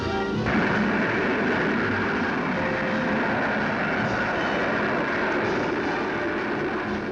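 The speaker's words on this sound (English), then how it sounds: "a rocket sled tests pilot safety equipment by simulating the fantastic stresses of" A rocket sled streaks down a 2.5-mile test track, testing pilot safety equipment; a loud, sustained roaring rush with broadband rumble holds steady throughout, with no voices.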